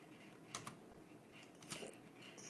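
Quiet typing on a computer keyboard, with scattered soft key clicks and a few sharper taps over a low background hiss.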